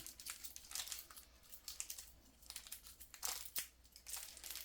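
A plastic Halloween goody bag is twisted tightly closed, producing close, bright crinkling and crackling in irregular bursts, soft and intimate with no talking.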